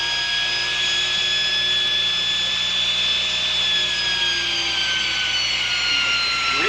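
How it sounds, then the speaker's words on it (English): A smooth electric motor spins a rotary spark gap at high speed on a Tesla coil builder's bench, giving a steady whining hum with layered tones that shift slightly in pitch, continuous and close with no talk. "motor is running maybe at about 20 volts AC input, and it sits there. Virtually no vibration at all."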